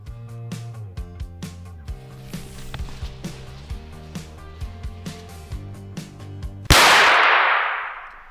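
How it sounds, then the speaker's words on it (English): A small firecracker goes off on the floor with one sharp, loud pop, followed by a hissing, fizzing burst that fades over a couple of seconds. Steady rhythmic music plays before it. "These ones, they're not particularly powerful, but they make a nice pop."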